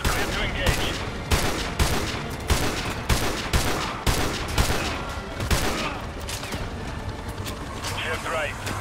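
Sniper rifles fire in the Modern Warfare 2 Remastered campaign, a rapid series of loud, sharp cracks in an uneven volley, with radio-style voices talking between the shots.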